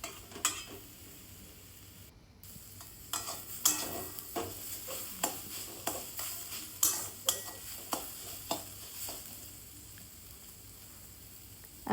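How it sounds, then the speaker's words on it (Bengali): Mustard greens stir-fried in a pan, a soft background sizzle under a run of regular, sharp spatula scrapes and taps against the metal, close but fairly quiet, with no one speaking. "আমার শাক ভাজা প্রায় কমপ্লিট হয়ে আসছে।"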